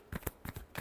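Brief hand shuffle of a tarot deck, a few soft papery flicks close by, quiet and alone.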